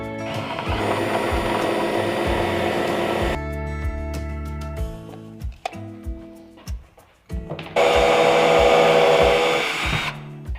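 A power drill whirs loudly in long bursts, pre-drilling screw holes in wood lumber, stopping and restarting with brief clunks and rattles between runs, close up.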